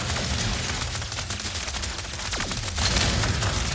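Rapid, sustained gunfire in the video game Ratchet & Clank: Rift Apart, shooting at an enemy, heard as a dense, loud, unbroken barrage with sweeping effects that swell near the end.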